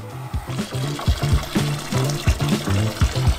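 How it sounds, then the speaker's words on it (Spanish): Water pouring into a plastic tub, a continuous gurgling splash with rhythmic glugs, loud and close. "En uno ponemos agua"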